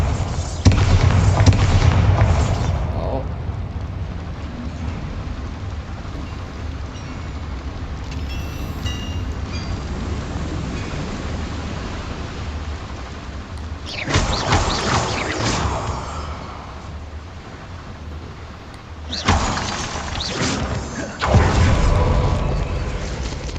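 Bombarda blasting spells exploding in Hogwarts Legacy, several heavy booming bursts with crumbling debris spread across the clip, separated by quieter stretches of ambient rumble.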